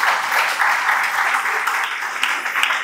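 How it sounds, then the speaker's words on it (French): An audience applauds the panelists at the close of a panel discussion on youth employability. The clapping is sustained and fairly loud and dense, carrying evenly from start to finish. "On applaudit pour eux encore, s'il vous plaît"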